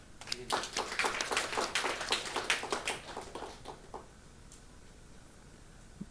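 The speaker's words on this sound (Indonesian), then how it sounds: "Beri tepuk tangan dong." A church congregation claps hands in a rhythmic burst of distinct, close claps that taper off after about four seconds, leaving quiet room tone.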